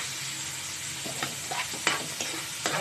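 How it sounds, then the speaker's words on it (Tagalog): Ingredients sauté in a hot pan for a Filipino home-cooked dish, giving a steady sizzle with a few sharp clicks and scrapes of stirring scattered through it, close and moderately loud. "Tayo mag-igisa na."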